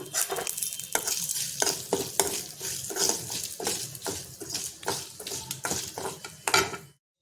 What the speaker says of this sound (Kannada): ಒಣಮೆಣಸಿನ್ಕಾಯಿ ಒಂದೆರಡು ಉದ್ದಿನಬೇಳೆ ಕಡಲೆಬೇಳೆ ಸ್ವಲ್ಪ ಮೆಣಸು ಜೀರಿಗೆ ಎಲ್ಲ ಹಾಕ್ಕೊಂಡು ಒಂಚೂರು ಎಣ್ಣೆ ಹಾಕ್ಕೊಂಡು ಹುರ್ಕೊಳ್ಳೋಣ